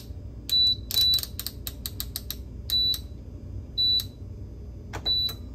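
Air fryer control panel being set to 200 for 17 minutes: a run of short electronic beeps and button clicks over a low, steady background hum.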